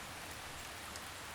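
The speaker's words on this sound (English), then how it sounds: "Rains continued the following day." Steady rain falls on a backyard wildlife habitat, a dense even hiss of drops without pauses or voices, moderately quiet and continuous.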